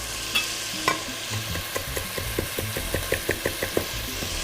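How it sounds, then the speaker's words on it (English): Chopped rosemary and garlic sauté in a soup pot, a steady sizzle under a run of regular spoon stirs and scrapes ticking against the metal, close and clear, with no talking. "Because rosemary is a wood-soluble herb, you can actually saute it."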